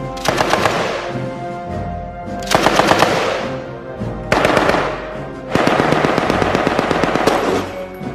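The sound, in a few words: Japanese Type 92 7.7 mm machine gun firing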